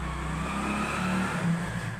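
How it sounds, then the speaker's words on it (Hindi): A motorbike engine outside, heard from indoors, hums steadily, a low droning motor with a slight rise in pitch, no talking. "बाहर बाइक चल रही है तो आवाज आ रही है बाइक की अंदर"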